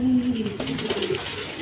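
Pair of Danish pigeons cooing, a short, soft, close burst of low throaty coos.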